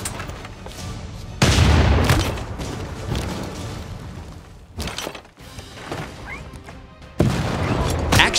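Cannon fire and impacts during a Civilization VI turn-based battle, with loud booming, crashing bursts around two seconds and again near seven seconds, plus smaller hits in between over steady game sound.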